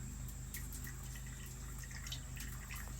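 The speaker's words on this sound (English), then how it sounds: "Let it slowly infuse the coffee grounds and continue to drip." Water drips slowly through coffee grounds into a pot while a Cajun keto breakfast is made, a soft irregular patter of small drops over a steady low hum, close and quiet.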